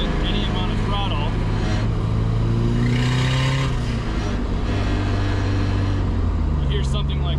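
A KA24DET-swapped Datsun 510 engine revs under throttle, a loud, close, rising growl with harmonic sweeps, while voices talk over it.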